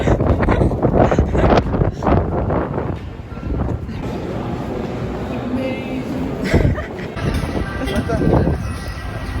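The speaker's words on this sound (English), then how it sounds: "It's the wind." Gusty wind buffets the microphone outdoors on a city street in Rome, a loud continuous low rumble with bursts, while voices talk over it.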